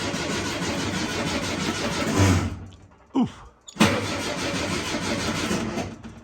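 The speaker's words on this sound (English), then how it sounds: "I've jumped the key switch with my starter button" Starter motor cranking a 1967 VW Beetle engine, triggered by a jumper starter button; a short whirring crank bursts loud and close, stops, then a second brief crank, against steady background hum.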